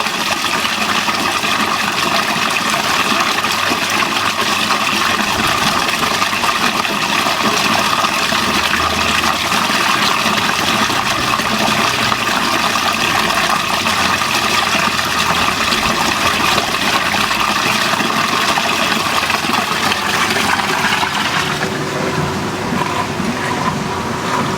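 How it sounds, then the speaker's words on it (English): Whirlpool and Maytag washing machines with front panels removed drain together, giving a loud, continuous gushing water rush with a pump hum that eases slightly near the end. "So when both of these are draining, this is what the outside is doing."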